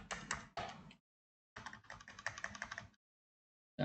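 Amounts typed on a computer keyboard for a payroll entry, then Enter pressed: close, quick bursts of key clicks with short pauses between them and a final sharp keystroke at the end.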